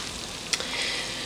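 Chicken livers frying in butter near the end of cooking, a steady soft sizzle with a brief sharper pop partway through, close and alone with no voices.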